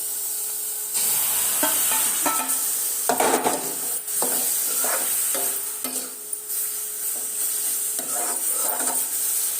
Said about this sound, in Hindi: इसको फ्राई करूंगी। देखिए, तड़का होता है दोस्तों